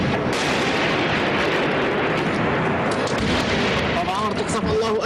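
Tank shells and mortar rounds landing in a Syrian war zone, loud continuous rumbling barrage of blasts and gunfire with voices mixed in, dense and unbroken throughout.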